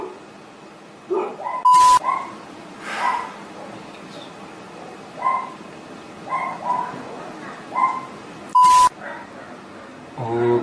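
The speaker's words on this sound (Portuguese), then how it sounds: "Tinha que começar a latir uma cadela bem nesse momento." A female dog barks and whimpers several times in bursts across a quiet indoor scene, with a few sharp loud spikes and brief background voice sounds.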